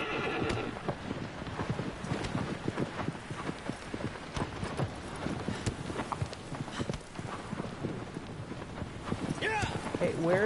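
Horse hooves clopping at a gallop in the video game Shadow of the Colossus, a steady rhythmic stream of hoofbeats with a whinny near the end, with talk over it.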